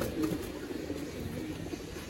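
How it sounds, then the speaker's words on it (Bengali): Pigeons kept in a loft in Narayanganj coo softly and continuously, a low, faint, murmuring burble close by with no other sounds over it. "এই যে কবুতর গুলো আছে, নারায়ণগঞ্জের ঐতিহ্য কবুতর"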